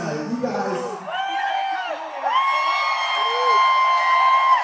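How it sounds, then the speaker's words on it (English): A concert crowd at Star Lake Pavilion in Pittsburgh cheers, whoops and shouts loudly and continuously, with sustained yells rising toward the end. "They're just cheering and cheering and cheering."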